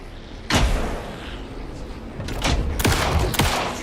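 Gunfire in the Alan Wake 2 video game, fired to pin down a boss during the final fight: a sharp shot, then a cluster of three loud, close shots over a steady rumbling game background.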